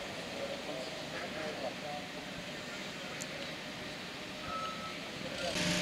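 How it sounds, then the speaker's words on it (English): A forklift truck loaded with boards approaches through steady outdoor rumble, its reversing beeps sounding faintly, while people talk nearby. "here comes a forklift truck with some boards on it"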